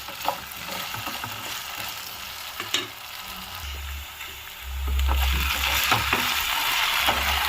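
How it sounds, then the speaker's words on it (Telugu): Potatoes fry in a pan for capsicum aloo curry, a steady close sizzle that swells louder toward the end, broken by occasional scrapes and clicks of stirring. "గోల్డెన్ కలర్లోకి వచ్చేంత వరకు కొంచెం ఫ్రై చేద్దాం మనం ఆలుని."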